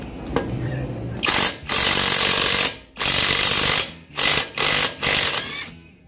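A Makita cordless impact wrench removes a wheel nut, loud close bursts of rapid hammering rattle in several runs of about a second each, separated by short pauses.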